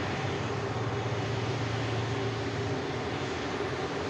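A Virgin Atlantic airliner bound for Orlando departs Manchester Airport, its jet engines giving a steady, distant broadband roar with a low droning hum that stays even throughout.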